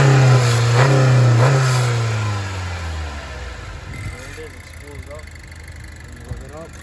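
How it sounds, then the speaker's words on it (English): A 2020 Honda Accord Sport 1.5-litre turbo engine revs loudly with a high turbo whine, limited to 4,000 RPM, then drops back to a lower idle as a voice talks over it. "let me rev it up for you so that you can hear the turbo a little bit"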